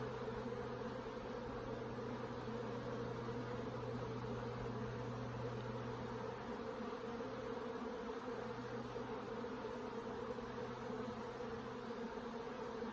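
Honey bees swarming around an open hive during an inspection, a dense continuous buzzing drone close by, steady and unbroken throughout with no talking.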